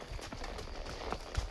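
Hooves of a horse being ridden clip-clop in a quick, steady rhythm outdoors, with a busy background wash of noise over the short stretch.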